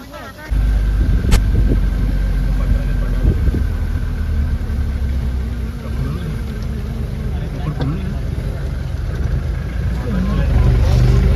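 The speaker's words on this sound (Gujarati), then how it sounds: "પાવાગઢ ઉપર જવા માટે બેસી ગયા છે ગાડીની અંદર." A car engine hums steadily from inside the vehicle as it sets off up Pavagadh hill in rainy weather, a low, continuous rumble with voices talking over it.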